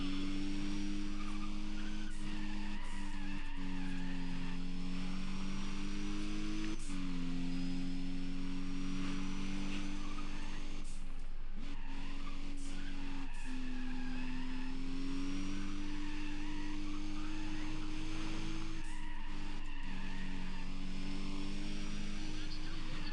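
Race cars roaring off the start of a race, several engines droning and revving together in a sustained, loud wall of sound with occasional tire squeal and shifts in pitch throughout.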